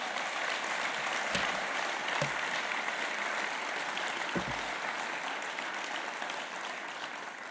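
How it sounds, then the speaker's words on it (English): Applause at an awards evening, the BIGGA Celebration 2024, a dense steady wash of many hands clapping that holds for several seconds, with a few louder claps standing out nearby and no talk over it. "Round of applause."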